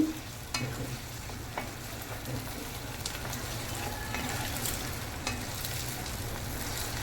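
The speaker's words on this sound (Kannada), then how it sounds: "ಮತ್ತು ಒಂದು 2-3 ಮಿನಿಟ್ ಇದನ್ನು ಫ್ರೈ ಮಾಡಬೇಕು. ಹೈ ಫ್ಲೇಮಲ್ಲೇ ಮಾಡಿ." Mushrooms frying in a kadai over a high flame give a steady, close sizzle with a few sharp clinks and scrapes of a spoon stirring through it.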